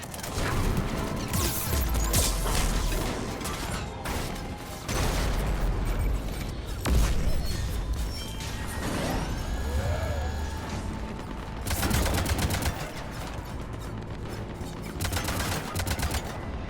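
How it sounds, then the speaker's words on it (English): Cannon fire and heavy gunfire in a Mass Effect 3 battle: repeated loud blasts and rattling bursts over mechanical clanks and sci-fi effects, with a short sweeping electronic tone in the middle. "Cannons engaged."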